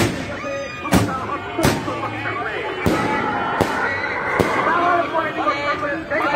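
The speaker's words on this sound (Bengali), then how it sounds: "রাজশাহী মহানগর আওয়ামী লীগ অফিসের সামনে আতশবাজি হচ্ছে এখন।" Fireworks for Victory Day outside an Awami League office in Rajshahi crack in sharp, loud bursts every second or so over a continuous crowd murmur and distant voices.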